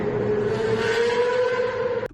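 High-revving supercar engine held at full throttle, a steady loud tone with bright harmonics sustained for about two seconds before cutting off abruptly.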